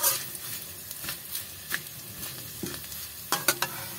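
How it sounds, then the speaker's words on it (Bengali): Ingredients for a Bengali-style idli dish are fried and stirred together in a pan on a gas stove. Steady, soft sizzling runs throughout, with scraping stirs and a few sharper clatters near the end. "সব উপকরণ একসঙ্গে ভালো করে ভেজে নেব"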